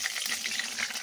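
Water poured onto a frying spice tempering for a vegetarian ridge gourd dish bursts into a loud, hissing, crackling sizzle that stays dense and close for about a second.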